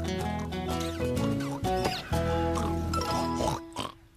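Cartoon pigs grunt and oink in a lively string of squeals and snorts over bright music in an animated children's show.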